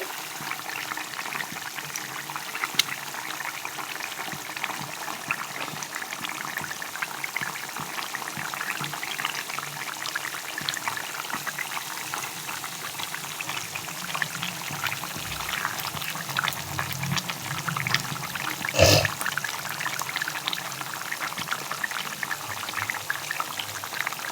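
Fish pieces go into a simmering Bengali fish curry gravy. Steady, close bubbling and hissing run throughout, with a sharper splash near the end.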